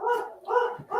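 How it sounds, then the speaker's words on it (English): An excited small dog lets out two or three quick, close, yappy barks in rapid succession. "so the dog is all excited because he brings his little dog with him"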